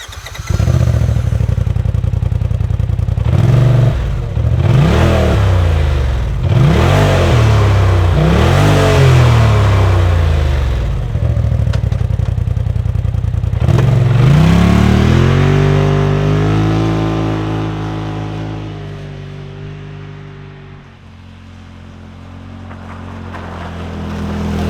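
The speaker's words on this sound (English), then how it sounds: "I just want to let you guys see what the exhaust sounds like in different conditions" A loud Polaris RZR Pro XP side-by-side fitted with an MBRP sport exhaust revs repeatedly in sharp bursts, rising and falling, then settles into a rough, lumpy idle before slowly fading.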